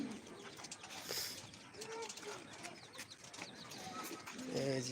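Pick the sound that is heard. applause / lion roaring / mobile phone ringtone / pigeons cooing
pigeons cooing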